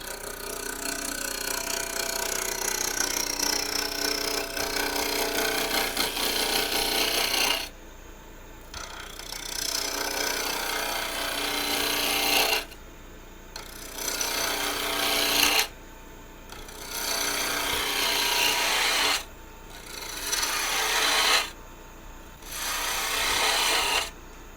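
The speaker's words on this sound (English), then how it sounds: "I'm going to switch to a 1/2 inch bowl gouge just because it's got a little more meat to it" A 1/2 inch bowl gouge cuts wood on a lathe, giving a loud continuous rasping, scraping hiss that repeatedly stops for brief pauses between passes before resuming.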